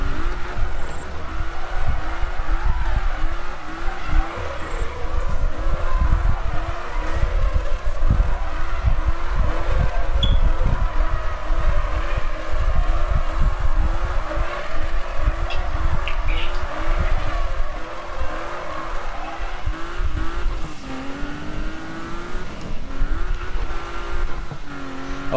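Race car driving in a video game, a steady buzzing engine drone with rapid rhythmic pulsing and shifting pitch, loud and continuous without talk, with a brief swooping rev near the end.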